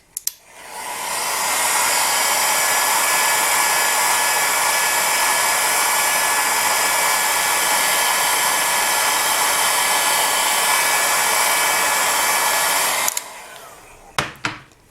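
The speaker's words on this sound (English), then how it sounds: "you can also have a heat gun or a hairdryer" A heat gun or hair dryer on low heat blows steadily on polymer clay with a loud, even whoosh for about twelve seconds, then switches off, followed by a few faint clicks.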